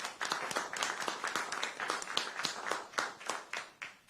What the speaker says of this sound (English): Big round of applause for these 3 amazing racers